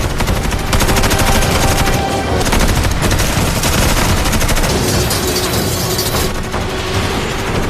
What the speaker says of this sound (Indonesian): Setelah terjadi baku tembak